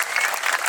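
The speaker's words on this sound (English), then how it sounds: "can we get one more round of applause for our wonderful MC for the night?" A brief, dense burst of crowd applause for the MC at a city band concert, steady and moderately loud, with no voices.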